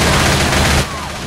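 Gunfire in Left 4 Dead 2, a dense, loud burst of rapid shots filling most of the moment before cutting off sharply, with game noise continuing after.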